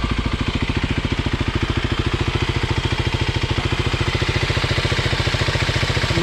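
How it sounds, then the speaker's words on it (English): A dual overhead cam, four-valve, water-cooled engine with a six-speed gearbox idles smoothly and close by, with a steady, even stream of rapid firing pulses and no talk over it. "Nice and quiet running engine too."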